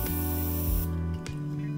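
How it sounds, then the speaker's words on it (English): A steady spray of aerosol cleaner onto a toothbrush hisses loudly for just under a second, then cuts off, leaving a low hum and a faint click. "Spray it all over the toothbrush."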